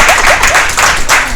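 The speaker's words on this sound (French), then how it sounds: "il faut applaudir pour donner la belle" An audience claps and applauds at a lively French-speaking gathering, a dense, steady wash of hand claps sustained throughout at moderate loudness, with faint voices mixed in.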